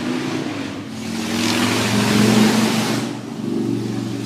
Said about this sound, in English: oh, here comes motorcycle guy.